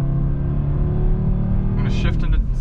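A 2022 Audi RS 3 engine drones steadily as it pulls away, a loud close rumble throughout, with a person speaking briefly near the end.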